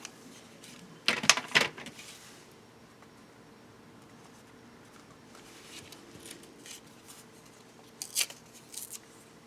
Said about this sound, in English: Trimming off the edges.